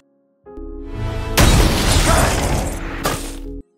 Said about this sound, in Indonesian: dia menggunakan alat pemadam api yang berhasil memecahkan kaca